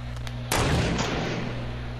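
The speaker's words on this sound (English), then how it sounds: "I heard the shot" A single loud gunshot cracks in a battle royale shooter, a sharp close blast that decays into a short echoing tail over a steady background hum.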